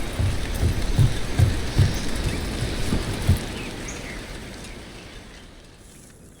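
Steady rain in the video game Dragon Age: The Veilguard, a dense hiss with a few dull low thumps early on, gradually thinning and fading toward the end.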